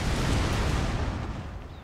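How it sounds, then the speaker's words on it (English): Cannon fire in the Total War: Fall of the Samurai video game, a dense rumbling boom that swells and slowly fades, loud and close with no voices. "that kind of sound like cannon fire"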